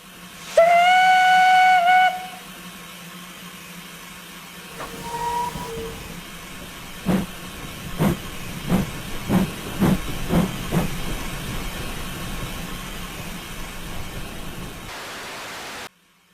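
An LNER F8 class steam tank engine in Train Simulator gives a loud, sharp whistle, then settles into a steady hiss of steam broken by a run of distinct exhaust chuffs before the sound cuts off.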